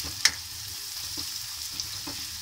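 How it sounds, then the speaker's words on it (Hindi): Onions half-frying in a pan make a steady, close sizzling hiss, broken by a few sharp taps and scrapes of stirring. "मैंने यहाँ प्याज को अच्छे से हाफ फ्राई कर लेना है"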